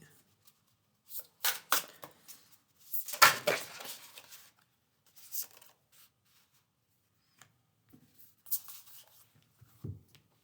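Tarot cards riffle and slide in short bursts, with a few quiet taps and soft card flicks as single cards are drawn and laid down, close and fairly quiet with pauses between.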